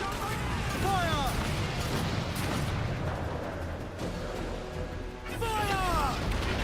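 Ship cannons firing in the Assassin's Creed Black Flag video game, deep booms under rushing wind and sea noise, with shouted voices over the broadside.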